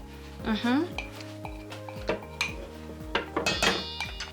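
Dishes and cutlery clatter into a wood kitchen sink during Lebanese cooking, with several sharp clinks and knocks scattered across the clip, close by, and a brief voice near the start.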